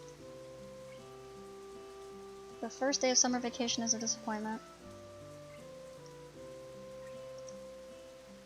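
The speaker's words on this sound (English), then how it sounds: "water came down from the leaden sky in biblical proportions" Heavy rain in the Katawa Shoujo visual novel falls as a steady soft patter beneath sustained background music tones, while a voice reads narration over it midway.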